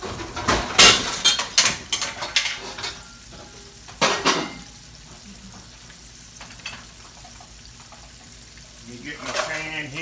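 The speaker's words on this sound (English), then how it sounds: "So I'm gonna sear these off." Pork chops searing in a hot pan make a rush of clattering and sizzle, with a burst of pan and utensil noise, then a quieter stretch of steady frying and a final clatter near the end.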